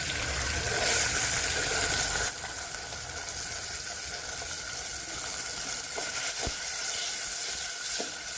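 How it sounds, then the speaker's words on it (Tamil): Onions frying in hot oil for a red cowpea vegetable curry give a steady, close hiss that is loudest in the first two seconds, then settles into a softer continuous sizzle with a few faint clicks. "இப்போ இந்த இடத்துல இந்த வெங்காயம் ஒரு 50 கிராம் சேர்த்துக்கிறேன்."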